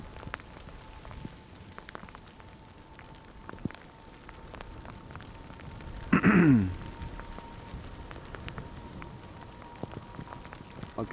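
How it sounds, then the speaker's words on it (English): Light rain beginning to fall at Amsterdam Schiphol airport near runway 36L, scattered drops tapping on a surface over quiet outdoor ambience, with a brief louder rustle midway. "it's beginning to rain now"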